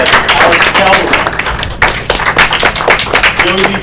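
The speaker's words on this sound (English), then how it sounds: "we'll give a little applause for all those people at the close" Brief scattered clapping from an audience at a board of education meeting, honoring award recipients, loud and close with a voice talking over it.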